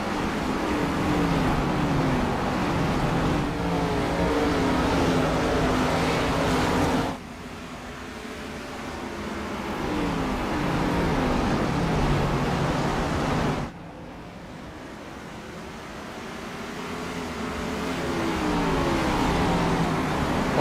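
Stock race cars roaring around Nashville Fairgrounds Speedway, a dense continuous engine drone swelling and dipping as the pack passes, loud and sustained with no talk.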